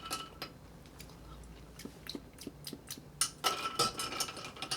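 Ice clinks and rattles against glass as a Vieux Carré cocktail with cardamom and banana is stirred, light tapping at first, then a busier, louder run of close clinks near the end.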